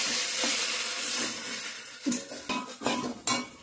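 Food frying in a pan on a home stove, a steady hiss of sizzling under clinks and scrapes of a utensil stirring against the pan, with several sharper knocks near the end.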